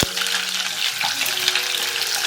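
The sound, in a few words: onions frying in hot oil in a saucepan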